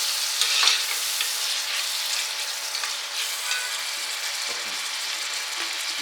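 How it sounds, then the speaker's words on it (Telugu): Ginger garlic paste fries in hot oil for soya chunk biryani, hissing and crackling steadily close by, with scraping stirs running through the sizzle. "ఒక 1 మినిట్ ఫ్రై చేసేద్దాం దాంట్లో."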